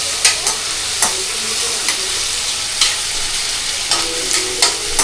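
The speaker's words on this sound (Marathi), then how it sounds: "तेल जास्त गरम झालं. शेंगदाण्यावर टाकणार आहे." Hot oil tempering hisses and sizzles over peanuts in a loud, close, steady fry, punctuated by several sharp spattering pops and clicks.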